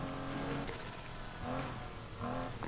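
An 80s Ferrari in Need for Speed Heat is driven hard. Its engine revs rise and fall repeatedly with gear changes, a loud, constant roar with no pauses.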